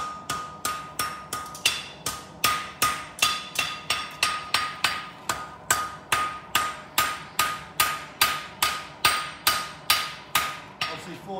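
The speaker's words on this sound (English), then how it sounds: "Obviously forging our hunter heel angle onto it" A farrier's hammer strikes a hot horseshoe on an anvil while forging a hunter heel, landing loud, evenly spaced metallic blows with ringing decay, steady for about twenty strikes and no voices.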